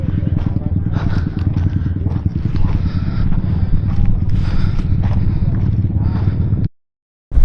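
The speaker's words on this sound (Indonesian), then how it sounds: "Anginnya kenceng banget guys." Strong wind buffeting at the Mount Kelud crater, a loud continuous low rumble and roar that stays steady before cutting out abruptly.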